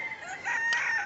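A single rooster crows close by in one drawn-out, rising call, with no voices over it.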